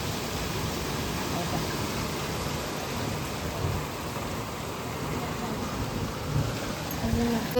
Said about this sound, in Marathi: चला आता पाऊस पडतोय